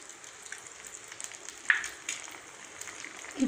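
Beaten egg is poured over onions into a hot appam pan for an omelette, giving a soft, steady sizzle with a few brief crackles and pops.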